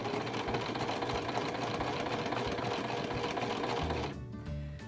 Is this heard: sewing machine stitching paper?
yes